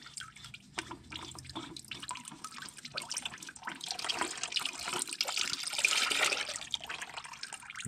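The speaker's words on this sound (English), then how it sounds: "some oil coming out already" Engine oil draining from a 2012 Toyota Prius into a drain pan, a continuous splashing, trickling pour that grows fuller and louder toward the end, close by with no talk.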